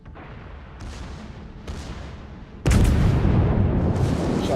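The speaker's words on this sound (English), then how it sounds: "taking fire from the main battery and the second battery" Warship main and secondary battery guns fire in World of Warships, with distant booms rumbling at first, then a loud, heavy blast that roars on as a sustained barrage, all without voices.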